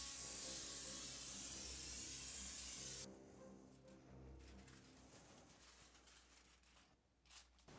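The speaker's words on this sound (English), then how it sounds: "I'm going to spray my foil with nonstick cooking spray." A steady hissing spray of nonstick cooking spray onto foil for about three seconds, loud and close, then it cuts off, leaving faint rustling and low background noise.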